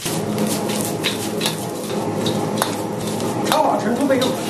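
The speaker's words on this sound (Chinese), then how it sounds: "锅烧热，不要加油，把酸菜炒一下，把酸菜炒干水分" Sauerkraut stir-fried in a dry, unoiled hot wok, a spatula scraping and clinking against the metal in irregular strokes, with light rustling of the pickled cabbage and no talk.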